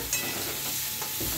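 Onions sizzle in hot oil with a constant crackling hiss and a faint scrape of stirring, close and steady.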